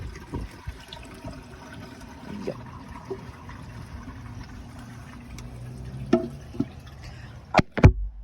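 A toilet tank refills with water after a flush, giving a steady rushing hiss and trickle that runs throughout, with a few sharp clicks and knocks near the end and a brief voice.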